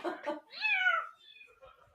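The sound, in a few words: cat meowing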